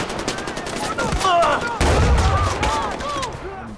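Gunfire in the Far Cry 4 video game, led by the 1887 signature shotgun, cracks in a dense burst of shots and an explosion-like boom, with someone talking over the action.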